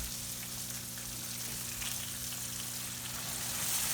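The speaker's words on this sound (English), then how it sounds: "here I am just making bacon on my griddle or my skillet here" Bacon strips frying on a griddle or skillet, a soft steady crackling sizzle that holds evenly throughout, close but fairly quiet with a faint hum underneath.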